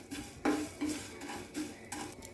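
A spoon stirs and scrapes whole spices, including pepper and coriander, in a metal pan for country chicken curry, giving clear clinks and scrapes against the pan and only a faint hint of frying underneath.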